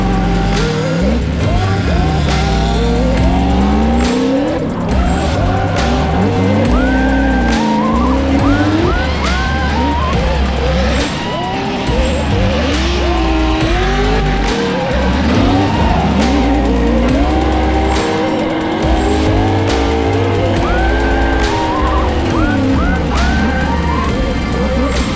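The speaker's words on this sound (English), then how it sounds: "You can hear Jonathan Aaron as he pedals the throttle" Race car engine revving hard on and off the throttle during a motorsport run, loud and continuous with rising and falling engine pitch and some tire noise.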